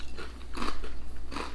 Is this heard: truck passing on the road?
no